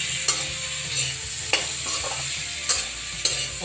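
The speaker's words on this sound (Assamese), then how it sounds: "অকণমান লৰাই দিলোঁ" Bhangun fish (Labeo bata) being stirred while frying in a pan, with steady sizzling and a few sharp scraping strokes of the spatula, close and loud.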